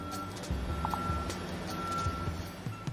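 A truck's reversing alarm beeps at a steady, regular rhythm over low engine rumble on a noisy construction site.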